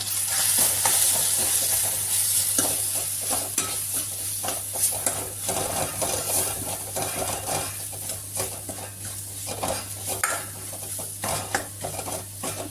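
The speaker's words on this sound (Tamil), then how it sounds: "இப்போ இது எல்லாத்தையும் சேர்த்து நல்லா மிக்ஸ் பண்ணி விட்டுக்கலாம்" Turmeric and garam masala being stirred into a sizzling pan for cauliflower kurma, with steady frying sizzle under repeated scraping strokes of a spoon against the pan, close and continuous.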